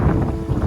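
Strong cold wind buffeting the microphone on a peninsula by the Sea of Japan, a loud steady low roar throughout the short moment.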